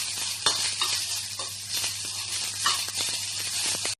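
Onions frying in a pan, a steady close sizzle with intermittent stirring scrapes throughout, no talking.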